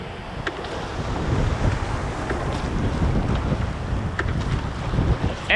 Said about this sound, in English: Keep rowing.